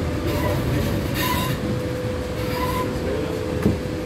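Berlin U2 subway train of the Gl/1E type riding between Bismarckstraße and Pankow, heard from inside the carriage as a steady loud rumble with faint wheel squeal and a brief clank near the end.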